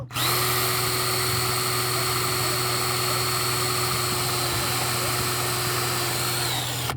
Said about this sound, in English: What you want to do is just pre-drill first.